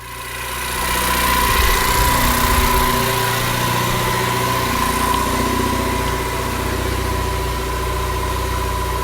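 An Ecoboost-engined DeLorean idles smoothly up close at about 900 RPM, starting as a low rumble that swells slightly and then settles into a steady, even purr.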